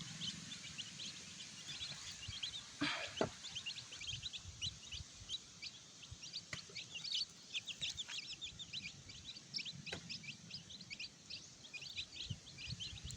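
Native chickens and chicks feeding on termites outdoors in the countryside, with a steady flock chorus of high chirps and peeps, occasional clucks and sharp pecking or scratching noises, continuous and moderately close.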